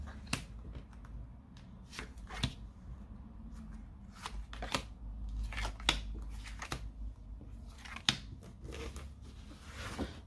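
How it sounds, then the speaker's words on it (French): Tarot cards are laid out one by one on a table, giving soft, quiet slaps and shuffling flicks at an irregular rhythm, with no talk. "on va poser les cartes de l'autre."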